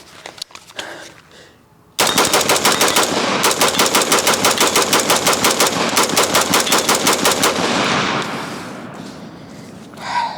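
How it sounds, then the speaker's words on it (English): Loud rapid automatic-style fire from a rifle mag dump of .223 steel-cased ammunition: about six seconds of dense, evenly spaced shots after a brief pause, trailing into echo and fading noise. "So let's do a little bit of mag dump in here."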